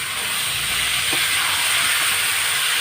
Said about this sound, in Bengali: এবার আমি এই ধোয়া চাল ডাল সব কড়াতে দিয়ে একসঙ্গে কষে নেব।